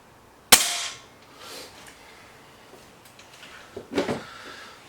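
BSA Lightning SE air rifle firing after a slight retune, one sharp close crack followed by a faint clatter and a second smaller knock a few seconds later, with no talk.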